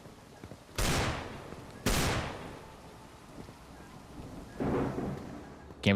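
Three gunshots ring out in a zombie video game: two loud, sharp blasts close together near the start, then a softer third shot after a pause, each trailing off in a short rumbling decay over low background noise.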